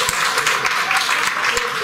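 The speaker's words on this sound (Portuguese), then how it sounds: "Palmas, por favor." An audience at a book launch ceremony claps for an honoree, a short, fairly even patter of applause from a modest crowd, with scattered sharper claps and faint voices underneath.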